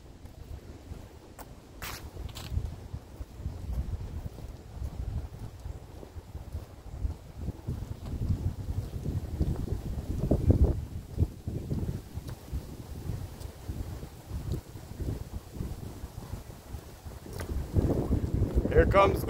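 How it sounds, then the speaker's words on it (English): Wind gusting on an outdoor bike trail during a hike, a steady rumbling roar buffeting the microphone that swells louder near the end. "Here comes the wind."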